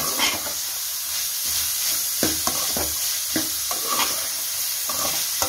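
Chopped vegetables and capsicum are sautéed in oil for chicken fried rice, giving a loud sizzle with repeated scraping strokes of a stirring spoon against the pan, and no voices.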